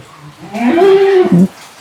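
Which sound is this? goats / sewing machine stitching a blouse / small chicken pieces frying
goats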